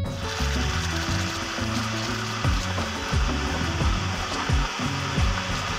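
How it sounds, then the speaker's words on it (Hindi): An electric blender blending a mango smoothie made with chilled chopped mango, giving a steady, loud motor whir with rhythmic churning pulses throughout and no talk. "इसको ऊपर से मिक्स करेंगे और अच्छे से ब्लेंड कर लेंगे"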